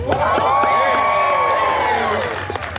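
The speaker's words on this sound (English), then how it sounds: "A little louder applause would be nice." Live audience cheering and clapping at a comedic storytime show, a loud crowd roar with whoops and shouts sustained throughout, fading slightly at the end.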